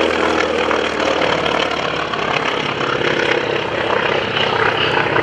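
A steady, loud propeller roar from an SBC Helldiver warbird powered by a 1,700 horsepower Wright radial engine flying at an airshow, sustained and even throughout.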